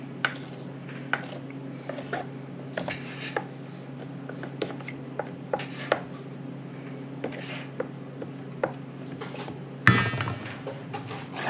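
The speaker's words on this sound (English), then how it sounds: "right now she's still cutting up the Romas." A knife cuts up Roma tomatoes on a board in a string of irregular light taps and clicks over a steady low hum, with a louder clatter near the end.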